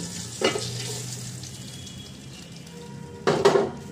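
Shrimp deep frying in a pan, a soft steady sizzle with two brief clatters of a utensil against the pan, close and fairly quiet with no talking.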